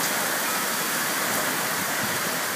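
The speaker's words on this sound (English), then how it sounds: "That is sideways rain." Very heavy, wind-driven sideways rain pouring down over an open paddock in Queensland, Australia, a loud, dense and steady roar with no talking.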